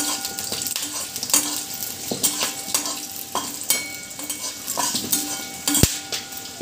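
Whole spices, including a cinnamon stick and a few cloves, roast in a hot pan with a soft continuous sizzle, while a spoon stirs and scrapes against the metal in irregular clinks.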